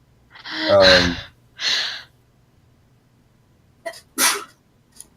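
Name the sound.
sneeze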